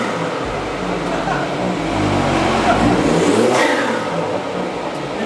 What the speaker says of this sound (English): So like turbo, spool, intake sound, it's completely amplified.